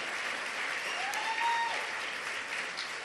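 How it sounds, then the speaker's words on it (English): Faint, distant crowd applause at an OFA political event, a steady wash of clapping with a brief whistle rising through it. "can everybody please give Bill a big round of applause for the great introduction"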